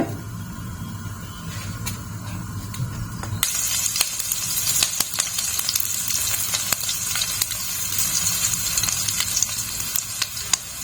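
Loud, steady sizzling of food frying in hot mustard oil, with a sudden jump in intensity partway through and scattered crackles and pops.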